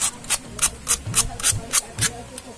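Rhythmic rasping strokes of sandpaper rubbing a disc brake pad, about nine even back-and-forth scrapes in quick succession, close and fairly loud.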